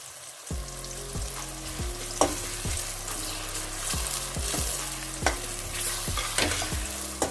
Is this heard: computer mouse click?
no